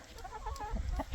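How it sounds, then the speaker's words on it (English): Newly arrived Highland variety hens on a homestead cluck softly and close by in a short burst of low, throaty calls. "Highland variety chickens."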